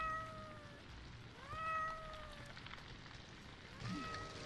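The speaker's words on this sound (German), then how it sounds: "Hier sind noch kleine Babykatzen." Kittens in a video game give several short, high meows, a few spaced across a few seconds with one or two overlapping, set against a soft, crackling background that sounds like fire.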